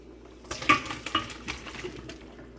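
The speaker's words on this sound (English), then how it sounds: "Yeah, you pour it into the strainer." Hot cooked meat and its liquid poured into a strainer in a kitchen sink, with brief splashing and a couple of metallic clinks, fairly quiet.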